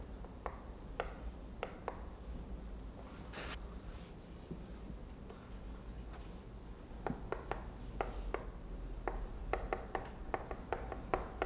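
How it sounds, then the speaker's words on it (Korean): Marker or chalk strokes on a board during a Korean civil law lecture, a series of faint, quick scratching taps and squeaks in irregular bursts, sparse at first and busier toward the end, in a quiet room. "그 밑에다 한 번 더 써볼게요."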